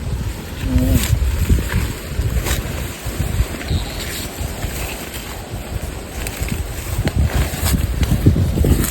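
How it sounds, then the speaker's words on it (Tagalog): Strong wind buffets the microphone in steady gusts, with low rumbling and a faint water-and-boat ambience beneath. "Lakas ng hangin ah."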